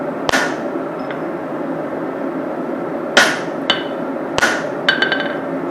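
Sharp metallic hammer blows drive a punch into hot steel while a small ball peen hammer is forged, a few loud ringing strikes spaced irregularly with faint lighter taps between them.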